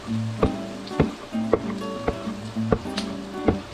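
Onions go into a hot pan with oil and corned beef and sizzle faintly, broken up by a regular series of sharp knocks and clanks from a utensil hitting the pan roughly every half second.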